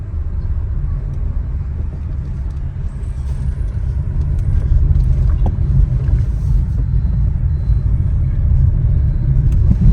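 Car driving on a road during a road trip from Kawardha to Jabalpur, India: a continuous loud, deep interior engine and tyre rumble with road noise, steady throughout, no voices.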